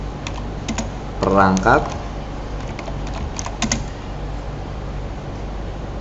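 A computer keyboard is typed on as a title is entered during a remote grade 5 class, with steady key clicks running under a speaking voice and a short burst of louder keystrokes.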